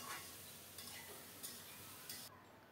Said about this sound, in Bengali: এবার ভালো করে নেড়ে চেড়ে সবজিগুলোকে ফোড়নের সাথে মিশিয়ে দিয়ে ঢাকা দিয়ে রান্না করব।